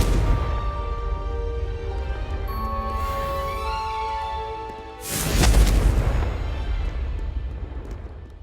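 Confringo explosive spell cast in Hogwarts Legacy: a single deep booming blast about midway, rising out of a tonal musical game score and then fading away, no voices.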